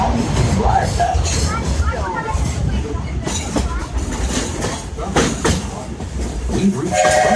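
Disney Railroad train rolling into Frontierland Station at a theme park, a steady rumble and clatter of the cars running throughout with a few brief tonal blasts near the end, heard under a voice talking over it.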